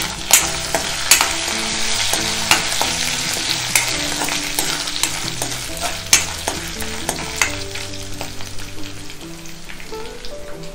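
Curry leaves crackle and spit as they hit hot oil in a pan for a mushroom roast, a loud, dense sizzle with sharp pops and stirring scrapes running steadily throughout, no voices.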